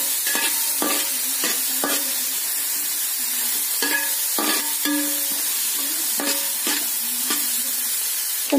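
Onion, ginger, green chilli and curry leaves stirred in a pan for rava upma make a steady close sizzle, with repeated sharp spoon clinks and scrapes against the metal in an uneven rhythm, and nobody speaking.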